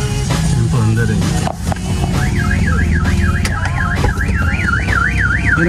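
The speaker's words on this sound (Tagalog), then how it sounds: "Ay, nag-a-alarm!" A car alarm blares close and loud, its siren cycling through warbling and rising tones over a running engine during trouble with a faulty throttle body and pedal sensor.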